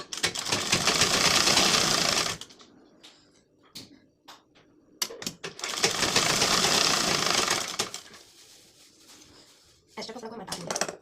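A sewing machine stitches blouse waistband lining pieces in two long bursts of steady, rapid whirring, with short gaps between them holding scattered clicks and handling sounds.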